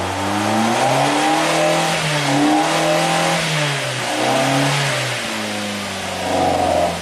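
A 2008 Suzuki SX4 engine suffering low power revs up and down repeatedly, loud and close, its tone rising and falling in several swells across the clip.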